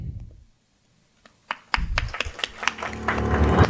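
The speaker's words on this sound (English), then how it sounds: "A powerful applause, please." After a brief near-silence, scattered claps begin and quickly build into steady applause from a group, growing louder toward the end.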